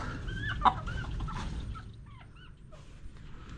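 Native chickens cluck and chatter in short, warbling calls at moderate distance, fading to a quieter stretch toward the end.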